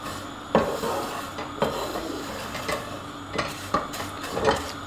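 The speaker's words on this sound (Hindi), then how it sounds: "चम्मच भी हम चलाते जाएंगे।" A metal spoon scrapes and clinks against a pan as vermicelli is slowly fried over low heat, with soft repeated stirring strokes and light taps over a faint background hiss.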